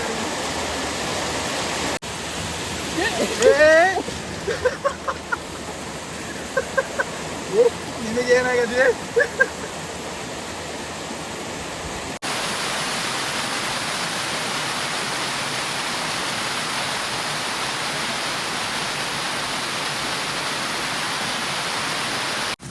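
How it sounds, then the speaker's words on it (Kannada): A steady, broad rush of a small forest waterfall at Herali fills the scene, with a person speaking over it early on before the water continues alone. "ಫಾರೆಸ್ಟ್ ಇರುವಂಥ ಒಂದು ಸಣ್ಣ ಜಲಪಾತ"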